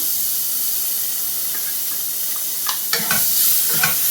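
Chopped tomato goes into a hot pan for a homemade chicken curry, raising a steady sizzling hiss with a few louder spatters and stirring scrapes near the end.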